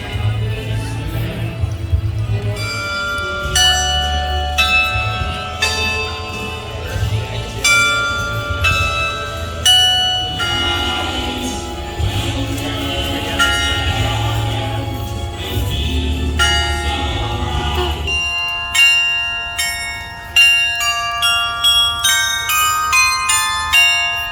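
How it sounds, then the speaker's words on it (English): The 35-bell carillon of the Frankenmuth Bavarian Inn rings out a melody of struck bell tones, steady and resonant, with a lower, busier passage giving way to brighter, sparser chimes near the end. "Enjoy the 35 bell and figure movement of the Frankenmuth Bavarian Inn Classic."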